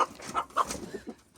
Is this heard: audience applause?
no